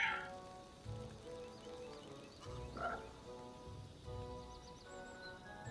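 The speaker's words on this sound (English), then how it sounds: "Why are you calling those frogs your brothers?" Frogs croak in the Pathfinder: Kingmaker game, a steady chorus of low, throaty croaks pulsing about once a second over a humming ambient background, fairly quiet and with no talk.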